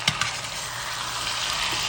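Potatoes for honey butter potatoes are turned in a hot pan, a couple of quick scraping knocks at the start, then a loud, continuous, close sizzle of frying.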